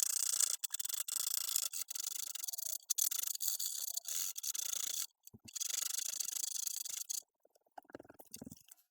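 Sandpaper rubs a bevel onto a wooden piece in quick repeated strokes, a harsh hissing scratch broken by short pauses, ending with a few quieter handling sounds.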